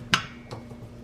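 Knife cutting butter in a metal saucepan in a home kitchen, two sharp clinking taps of the blade against the pan, the first louder, with a quiet pause between.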